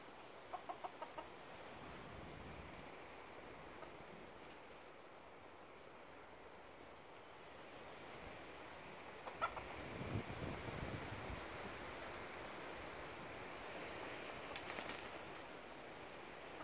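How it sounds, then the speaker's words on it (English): Chickens clucking softly outdoors at sunset while roosting in a tree, over a steady ambient hiss, with a few scattered sharper calls and faint rustling; no talking. "the chickens are getting ready for the night"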